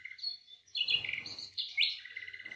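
Sparrows chirp in a home courtyard, a fairly quiet cluster of quick bright tweets coming in short overlapping bursts, with no voices.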